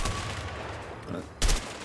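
A single sharp gunshot cracks near the end during a headshot in A Way Out, standing out over dense, noisy game ambience.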